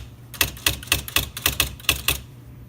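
Keys clack on a Smith Corona XE-1950 electric typewriter: about ten crisp, evenly spaced strikes, each followed by a short motorized whir, heard up close and alone.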